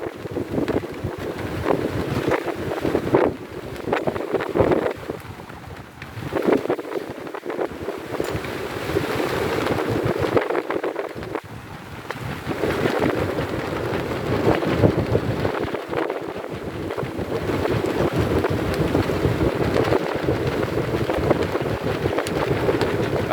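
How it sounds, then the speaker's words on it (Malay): A sailing ship runs under sail in very strong wind with heavy waves, a constant loud roar of wind buffeting the microphone over rushing water, with surges and brief dips. "kita bergantung penuh pada layar sebab angin yang sangat kuat"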